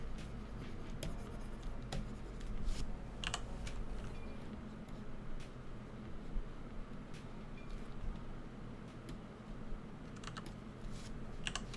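Pencil on paper while drawing a cartoon character's eyes, close soft scratching and tapping strokes in irregular bursts over a steady low hum.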